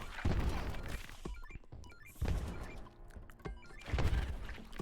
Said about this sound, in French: Je vais utiliser la bombe.